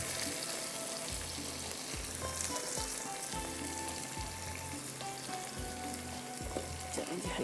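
Onion and tomato fry in a pan for a methi prawn dish, a steady dense sizzle running unbroken and close, with faint rhythmic low knocks underneath.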